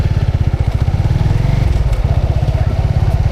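A Grab delivery motorcycle rides along at steady speed, its engine putting out a loud, close, rhythmic low pulsing putter throughout, with no voices over it.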